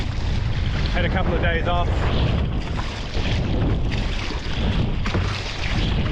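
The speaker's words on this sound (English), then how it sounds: "How much wind is this right here?" Strong wind buffets the microphone on open water during kite surfing on a 7'10 Dragonfly board, a constant loud roar with waves and a brief spoken phrase over it.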